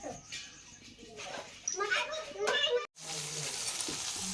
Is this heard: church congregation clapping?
no